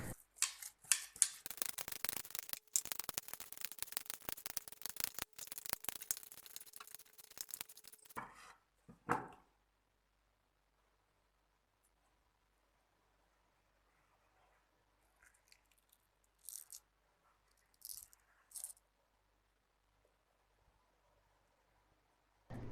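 A dry date being cut in half with a knife, a rapid run of close, crisp crunching and scraping sounds for several seconds, then near silence broken by a few faint later clicks.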